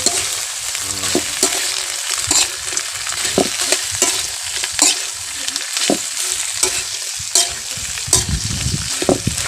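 Small talangka crabs go into a pot of coconut milk for ginataan, giving a steady bubbling sizzle with scraping stirs and clattering knocks, close and fairly loud.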